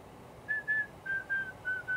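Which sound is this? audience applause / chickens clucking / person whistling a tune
person whistling a tune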